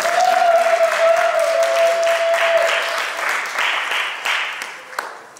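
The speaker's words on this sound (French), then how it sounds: "Est-ce qu'on peut acclamer le Seigneur?" A wedding congregation at a church celebration breaks into loud sustained applause and cheering, a broad wash of many clapping hands with a voice ringing out near the start, fading gradually toward the end.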